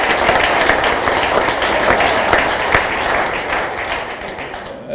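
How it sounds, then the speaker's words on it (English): An audience at a police retirement luncheon breaks into a dense, steady round of applause, close and sustained for several seconds before easing slightly. "Give them all a round of applause"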